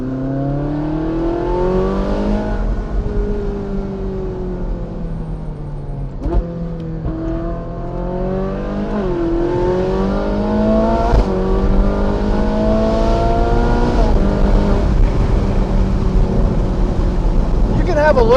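A Ferrari 458 Spider's engine drives on a street, the tone rising and falling through several upshifts over a steady wind rush, loud and close, with someone talking over it.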